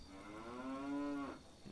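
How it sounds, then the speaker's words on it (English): A cow in Fallout 3 gives a single long moo that swells and fades, close and clear over quiet game ambience. "Random cow."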